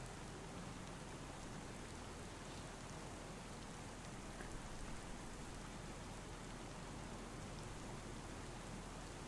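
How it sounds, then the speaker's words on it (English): Rain falls steadily in Farming Simulator 25, a continuous even hiss of downpour with no breaks or other sounds, fairly quiet throughout. "Speed up time till it stops raining."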